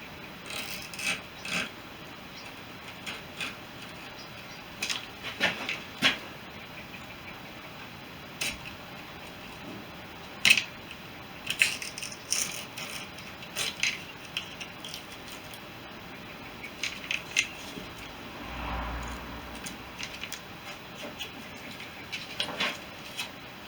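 Scissors cut Oratex UL600 covering fabric for the fuselage of a Fisher Youngster light aircraft, making faint, scattered snips and rasping rubs against a quiet workshop background.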